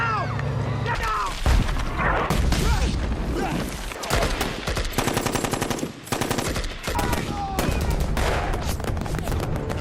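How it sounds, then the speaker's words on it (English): Machine-gun bursts and rifle shots ring out in a wartime battle as German troops close in, sustained rapid rattling fire with loud booms, mixed with shouting voices throughout. "Then, gunfire. The Germans have caught up."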